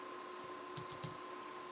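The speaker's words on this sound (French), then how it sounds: "si on l'écrit au clavier, on ne met pas de symbole" A few quiet keystrokes on a computer keyboard as a date is typed into a COVID-19 vaccination management platform, soft clicks over a steady electrical hum with no talking.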